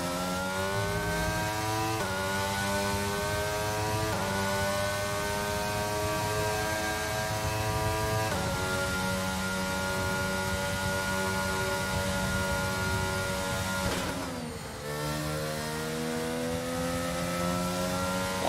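A Formula 1 race car in the F1 22 video game at the Saudi Arabia track: a loud, steady engine whine with stacked harmonics, stepping down in pitch on a downshift near the end, with no pause between gears.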